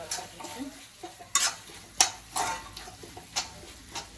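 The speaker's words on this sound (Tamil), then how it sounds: "நமக்கு கிரேவி கிடைக்கணும்ல, நல்லா கிண்டி விடும்" A spoon stirs crab gravy with tomatoes in a hot pan, scraping and clinking in uneven strokes over a soft sizzle, close and fairly quiet.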